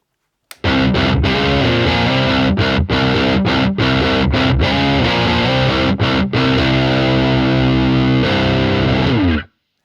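A loud, heavily distorted electric guitar plays sustained chords with brief choppy gaps, thick and saturated throughout, no voices.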